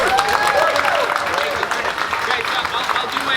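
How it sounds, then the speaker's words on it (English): Applause from an audience welcoming boxer Andy Ruiz to a press event, a loud continuous wash of clapping and crowd noise with voices mixed in. "let's give a round of applause for the man,"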